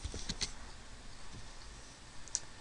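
Computer keyboard keys clicked in a few quick, light bursts while typing a search term into a website, close and fairly quiet, with no voices.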